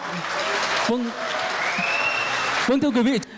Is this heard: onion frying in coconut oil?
no